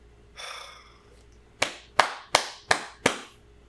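A single person claps five times in a slow, evenly spaced rhythm, following a brief sigh-like breath; no talking.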